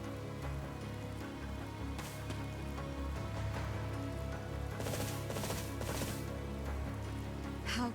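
Steady rain falls in a fantasy video game scene, a continuous dense patter with no talking, plus a few brief louder crackling surges.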